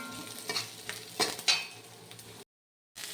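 A utensil stirs carrots and chillies in a hot pan, giving several scraping strokes over a low sizzle. A short gap of silence comes near the end before the sound resumes.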